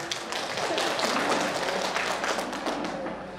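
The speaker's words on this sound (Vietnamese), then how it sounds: "hãy tặng cho những người đó, những người đi trước đó một tràng pháo tay được không ạ" An audience at a company office's Lunar New Year celebration gives a round of applause: a dense, steady patter of many hands clapping together, fairly close and sustained, with no voices over it.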